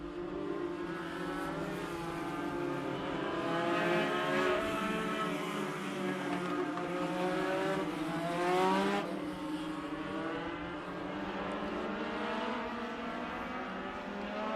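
Legend race cars roar around the asphalt oval at Dominion Raceway, a pack of engines droning together with rising and falling pitch as the field doubles up on the front straightaway, loud and continuous.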